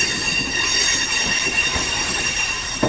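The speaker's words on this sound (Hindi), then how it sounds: "फाइनली मेन लाइन 2 पर आ चुकी है हमारी ट्रेन" A passenger train on the main line near Sindh University station in Pakistan, rolling steadily with constant loud rail rumble and wheel noise, a high squeal running throughout and a sharp clank near the end, with no voices.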